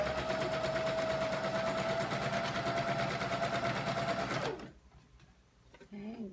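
A sewing machine runs fast and steady, stitching lace along the top edge of a collar, then stops abruptly near the end, leaving a brief quiet stretch before a voice speaks.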